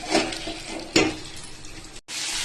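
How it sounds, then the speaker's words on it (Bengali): Okra and potato pieces fry in hot oil tempered with black cumin and dried red chillies, giving a steady close sizzle with scraping stirs that swell and fade, then a brief break. "তেলের মধ্যে কালো জিরে আর শুকনো লঙ্কা ফোড়ন দিয়ে ভিন্ডি আলুটাকে প্রথমে ভেজে নেব ভালো করে।"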